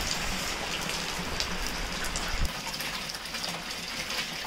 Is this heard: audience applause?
no